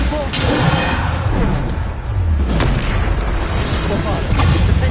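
Booming spell blasts from combat in Hogwarts Legacy, with dense loud bursts and whooshes over continuous battle noise and a voice calling out spell names.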